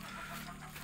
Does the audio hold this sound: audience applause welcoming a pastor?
no